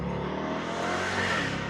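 A Mercedes CLK DTM race car accelerates hard on the road, its engine roaring loud and steady from inside the car with a rising, continuous pitch.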